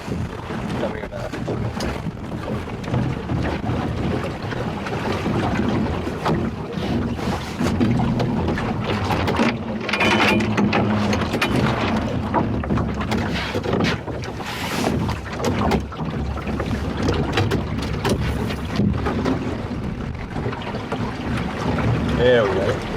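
An Arey's Pond catboat sails through gusty wind just after coming about, with a steady roar of wind buffeting the microphone and water rushing along the hull throughout.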